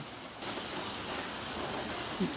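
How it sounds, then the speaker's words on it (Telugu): Steady rain falls in a soft, continuous hiss, fairly faint, with no one talking, in Banaganapalle under an overcast sky. "ప్రస్తుతం మంచి వర్షం కురుస్తూ ఉంది"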